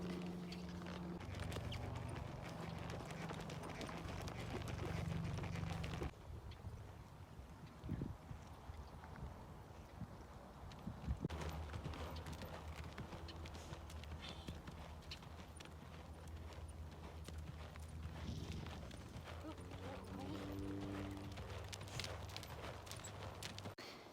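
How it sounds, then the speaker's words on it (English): Hooves of a young horse clip-clop steadily under a barrel saddle during his first ride, the rhythmic footfalls fairly close with ambient outdoor noise, pausing briefly midway before resuming. "Rode Hot Sauce for the first time today."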